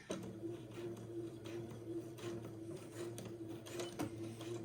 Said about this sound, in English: with a back and forth stitch, I'm going to stitch this elastic into place at the blue dot